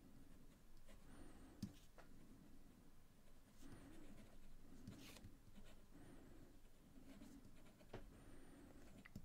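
A fountain pen writes on paper, some strokes made with the pen held upside down. The soft, quiet scratching comes in short repeated bursts of strokes, faint and close, with no talking.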